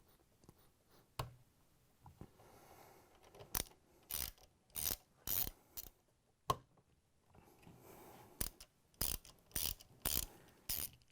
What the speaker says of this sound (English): We're going to use a large number 3 Phillips bit with a ratchet.